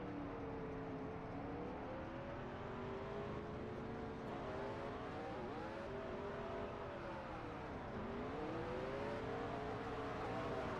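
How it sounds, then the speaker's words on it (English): A race car at Auto Club doing victory burnouts, its engine droning and revving with rising and falling pitch sweeps, a continuous loud roar with no pauses. "So he'll go do his burnouts."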